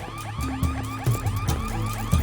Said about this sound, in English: Connor, that's the alarm at the museum.